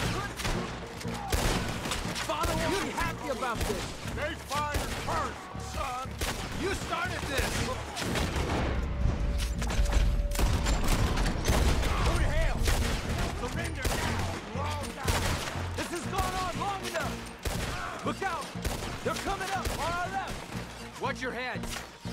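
Red Dead Redemption 2 gunfight against the army: rapid, overlapping rifle and pistol shots crack continuously throughout, near and loud, with heavier thumps and battle din layered between them.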